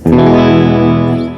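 Electric guitar on a Seymour Duncan bridge pickup played clean through a Vox AC30 amp plugin, striking one loud chord that rings out harsh and brittle for over a second before fading slightly.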